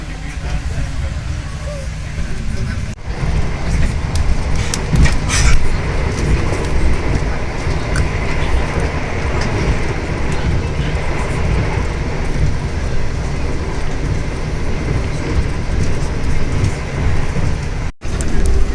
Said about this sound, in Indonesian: kereta kembali diberangkatkan dari stasiun Wates